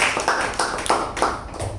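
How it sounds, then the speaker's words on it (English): A few people clap in a small Toastmasters meeting room for a speaker, sparse separate claps in an uneven rhythm, close and brief. "A big round of applause for Toastmaster Chetan"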